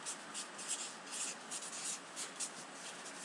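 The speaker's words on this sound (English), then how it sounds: "I am going to label it front." Pen or marker writing a label on a cut-out paper piece for a 3D paper form, a soft continuous scratchy rubbing heard close and alone at low volume.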